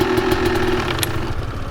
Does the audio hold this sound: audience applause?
no